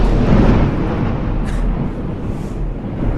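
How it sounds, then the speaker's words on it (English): A large explosion as broadcast news footage: a sustained, loud broadband roar that fills the whole stretch, deep and rumbling, with no voices over it. "That was a rather large explosion."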